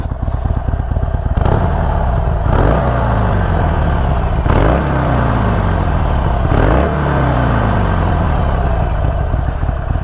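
A 2021 Harley-Davidson Iron 883 motorcycle idles with a loud, steady rumble, then is revved four times in spaced bursts, each one swelling sharply and falling back to idle, with no talking.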